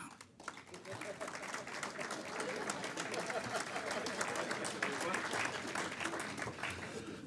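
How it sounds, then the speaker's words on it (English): Audience at the 2015 Laundry and Dry Cleaning Awards applauds sponsor Martin Lewis coming to the stage; clapping builds after a brief lull and grows into a full, continuous ovation with crowd noise mixed in. "A big, big round of applause for Mr. Martin Lewis"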